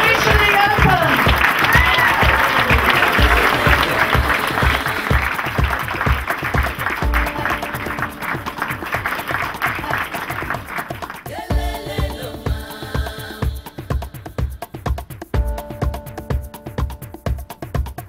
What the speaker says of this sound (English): Here's your chance to applaud.